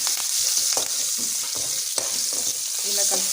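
Green chillies stirred into a sizzling lemon rice mixture in a pan, a steady close frying hiss with soft scraping stirs throughout, no talking.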